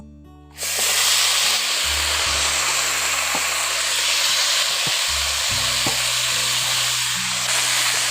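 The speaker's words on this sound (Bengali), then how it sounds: "এখন বাঁধাকপিটাকে কিছুক্ষণ কষে নিয়েছি" Cabbage and potato fry with spices in a pan as a loud, steady hiss and sizzle that starts abruptly after a quiet opening. Low musical tones run beneath it.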